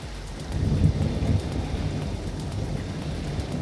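Heavy storm rain and gusting wind in a jungle at night, a steady broadband roar with low rumbling gusts swelling and easing, no voices.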